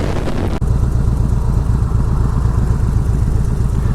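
2004 Harley-Davidson Road King engine running while riding, a loud, close, steady low rumbling chug with an even pulsing beat throughout, no talking.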